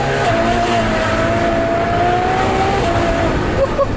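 A Ferrari FF's engine drones steadily on a greasy, slippery country road in winter, heard loud and continuous from inside the car with the window partly down, its pitch holding smooth and then rising slightly.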